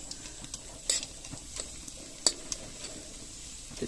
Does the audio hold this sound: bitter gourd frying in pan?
yes